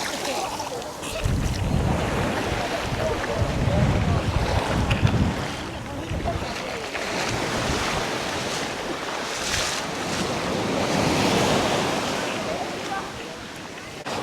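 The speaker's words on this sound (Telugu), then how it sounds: "ఇంకా అదండి బీచ్." Waves roll onto Jungle Beach near Galle in Sri Lanka in a continuous roar of surf with gusting wind noise, as voices chatter nearby.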